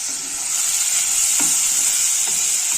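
Onion frying in hot ghee in a pan for a bean stew, a steady close sizzle with occasional soft stirring scrapes, no talking.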